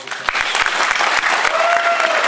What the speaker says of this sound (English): I just ask everyone to give her a round of applause